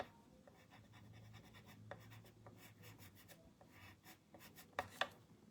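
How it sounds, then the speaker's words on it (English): Colored pencils shading a drawing on paper, a quiet close scratching and rubbing in short strokes with a few sharper taps, no talking. "It's a little easier to shadow with these pencils."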